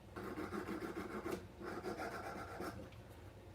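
Silver is sanded by hand with 600 grit sandpaper in quick, close, quiet strokes, a rhythmic rasping rub that pauses briefly midway, with no talking.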